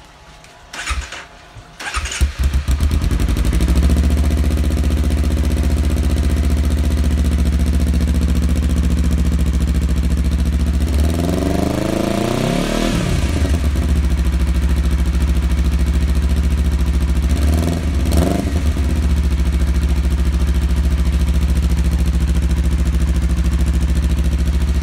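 A motorcycle engine with a racing exhaust idles with a steady low rumble, revving up twice with rising, throaty exhaust bursts before settling back to idle.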